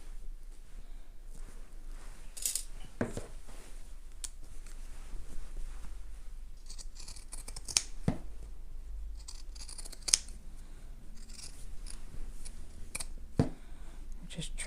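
Pinking shears snip through fabric as a bag lining's seam allowance is trimmed around a bottom curve, giving faint, scattered crisp cuts against a quiet room.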